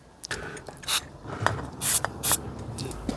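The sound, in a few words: professional brake cleaner spray being sprayed on brakes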